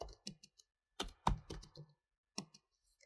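A computer keyboard being typed on to enter a fabric name in CLO 3D software: several short bursts of close, crisp key clicks separated by brief pauses, with no talking.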